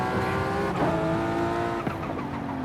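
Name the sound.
Toyota Supra driving at high speed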